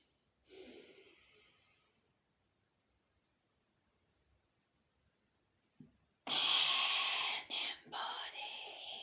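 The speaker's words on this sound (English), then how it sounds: "Let us take a long deep breath now" A person draws one long, airy inhale during a guided relaxation, then after a quiet pause lets out a loud, breathy exhale in several surging pushes, heard close to the microphone.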